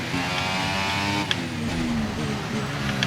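An F1 race car in the F1 24 racing game whines at high revs, then the note drops and wavers as the car leaves the track and spins out on grass, with a short thump midway.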